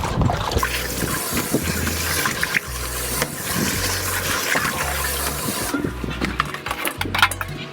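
Running water rinses catfish in a kitchen, a steady loud splashing and trickling flow that carries on with a low rhythmic churn throughout, no voices over it.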